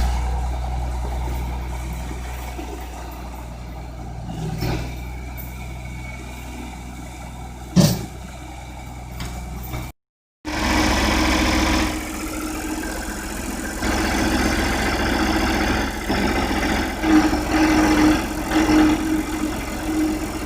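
A John Deere 4520 or 4620 farm tractor engine runs steadily throughout with a low, continuous diesel rumble. One brief knock is heard near the middle, then a short dropout. The engine returns louder and rougher, rising slightly as if revving.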